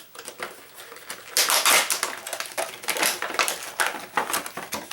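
Tin snips cut through plastic smoke alarm packaging in a run of loud, irregular crunching snips and crackles. The cuts sound close up and continue for several seconds with no talking.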